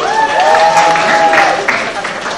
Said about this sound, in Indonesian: Tepuk tangan dulu buat Ahmad